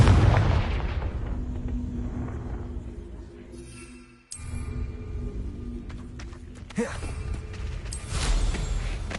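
A Confringo blasting curse explodes in a wizard video game, a loud boom with rumbling decay, followed after a brief drop by further bursts and crackling impacts over a continuous background.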